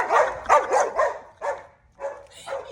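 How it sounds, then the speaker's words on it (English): A dog barks close by in a quick run of about five sharp barks, then pauses and gives two or three more, loud and clear with no talk over them. "Oh gosh, it's my dog again."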